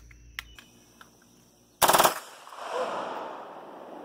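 A real rifle fired with no shoulder stock, gripped by its pistol grip, lets off a sudden loud close burst of rapid shots lasting a fraction of a second, followed by a long echoing rumble that fades slowly.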